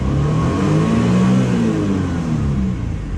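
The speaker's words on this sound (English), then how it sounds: "let's give it a nice little rev." A Bravo kei van engine revs hard toward its 9,000 rpm redline, a loud, close, steady whir-and-roar that holds near full pitch before easing slightly, with no talk over it.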